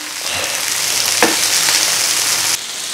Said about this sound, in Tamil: ரெண்டு பக்கமும் நல்லா வேக வச்சு பொன்னிறமாக வறுத்து எடுக்க போகிறோம்.